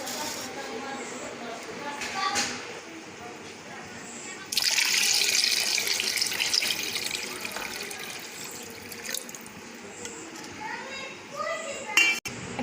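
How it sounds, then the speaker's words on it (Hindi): Water pours into a pot of zeera pulao as it cooks, a steady hissing splash that starts abruptly partway through and runs for several seconds, with faint background chatter around it. "अब हम इसमें पानी जो है वो ऐड कर रहे हैं।"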